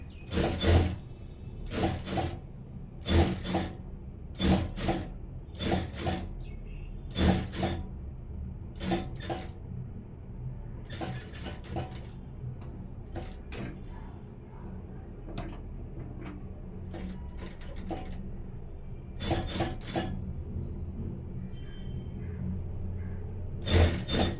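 A sewing machine stitching a wide blouse neckline, with bursts of rapid mechanical clatter starting and stopping in irregular runs over a low motor hum, close by.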